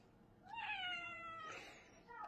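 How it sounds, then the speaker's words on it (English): A cat meows twice in quick succession, faint and fairly close, the calls rising then falling in pitch over a quiet room background. "Can you say meow?"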